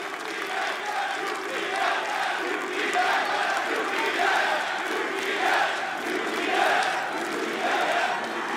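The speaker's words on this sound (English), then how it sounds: "Great support from the crowd here for both teams." A large arena crowd at a Counter-Strike ELEAGUE Major playoff match roars and chants continuously, with rhythmic surges of cheering rising and falling throughout.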